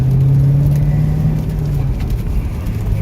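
A manual-transmission car slows under steady braking toward a stop, with no clutch engaged; a close, low engine drone holds throughout with a steady tone that fades slightly partway through.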